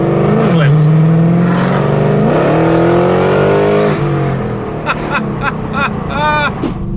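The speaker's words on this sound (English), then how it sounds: "What I love about the exhaust is that, you know, I mean, it still has that same AMG growl." A Mercedes W204 C63 AMG with LT headers and straight-piped exhaust revs loudly up and down in long rising and falling sweeps, then barks through a few short sharp blips, close and dominant.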